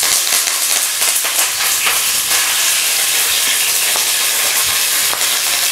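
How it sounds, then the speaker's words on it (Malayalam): Mustard seeds and curry leaves on the stem sizzle in hot oil for a Kerala-style kadala curry. A loud, dense, continuous hiss of frying carries faint crackles and pops throughout, with no voices. "കടുക് പൊട്ടി, ഇനി നമുക്ക് 2-3 കറിവേപ്പില തണ്ടോടുകൂടി തന്നെ ഞാനിവിടെ ഇടുകയാണ്."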